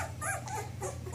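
Two-week-old Newfoundland puppies whimper in a puppy nursery, a quick run of high, thin whines and squeaks close by over a low steady background hum.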